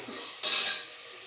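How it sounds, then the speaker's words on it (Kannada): Chopped small tomato tipped into frying ginger-garlic masala in a pan for potato and pea kurma, a single bright hissing burst of sizzle rising for about half a second, then easing back to a steady low fry. "ಹಾಗೆ ಈಗ ಟೊಮೆಟೊ ಹಾಕ್ಕೊತಿದ್ದೀವಿ"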